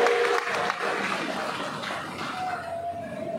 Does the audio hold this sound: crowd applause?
yes